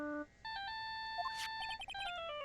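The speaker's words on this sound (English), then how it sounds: "And I bet it was this ringtone that caused it." A phone ringtone from the courtroom video game Phoenix Wright: Ace Attorney, a short bright electronic melody of beeping tones, clear and alone with no talking.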